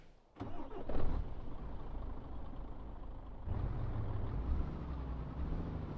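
A Mercedes-Benz Actros truck engine in Euro Truck Simulator 2 cranks and catches, then settles into a steady low rumble that swells once partway through, with no voices.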